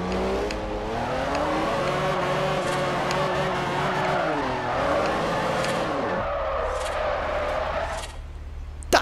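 A car drifting in Forza Horizon holds a long, wavering tire squeal over a steady engine drone. The squeal bends in pitch, then cuts out near the end, leaving a brief low rumble and a thump.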